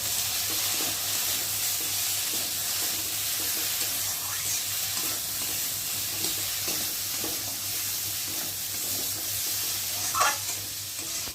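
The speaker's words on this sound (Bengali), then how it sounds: "নুন আর হলুদ গুঁড়োটা দিয়ে ভালো করে একটু কষিয়ে নেব।" Salt and turmeric stirred into sizzling spices in a pan while cooking shukto, a steady frying hiss with scraping stir strokes throughout, close and moderately loud.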